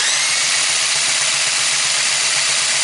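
The electric starter on a Honda ATC200S engine cranks steadily, a loud continuous whirring buzz with a rapid rhythmic pulse underneath, close and alone with no talk.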